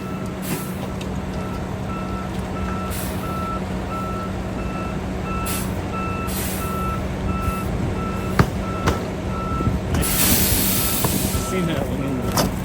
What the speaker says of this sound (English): That truck again, guys, gonna dump right on that conveyor right there.